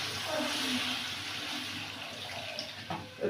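Water pours steadily into a pan of frying masala in a home kitchen, producing a continuous close rush that fades slightly toward the end.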